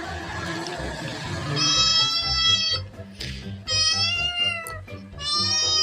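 A cat meows repeatedly in long, tonal calls, three distinct meows after an opening stretch, close and fairly loud over a busy background with faint voices.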